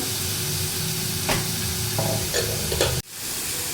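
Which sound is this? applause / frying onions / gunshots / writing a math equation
frying onions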